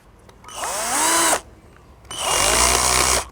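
Power drill driving nuts back in while reassembling a Samsung single-tub 8 kg washing machine: two close, loud whirring bursts of about a second each, separated by a short pause.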